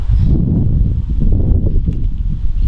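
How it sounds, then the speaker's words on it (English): Wind rumbles steadily across the microphone in dense, low buffeting gusts, loud and close throughout. "it's windy today"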